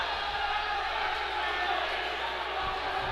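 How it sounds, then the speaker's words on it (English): Hockey arena crowd at a college game (Embry-Riddle vs. UCF) jeering the officials over a missed hit-from-behind call, a steady loud roar of booing voices filling the rink throughout. "the crowd giving the officials the what for"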